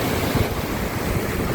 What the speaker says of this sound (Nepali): यो चाहिँ रसुवाको मैलुङ खोला झर्ना